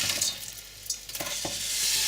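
Vinegar boils in a pan as crushed bay leaves and peppercorns drop in, giving a steady close sizzle with a few soft splashes and taps.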